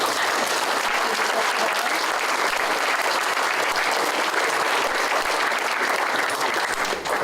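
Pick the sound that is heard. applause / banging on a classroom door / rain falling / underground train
applause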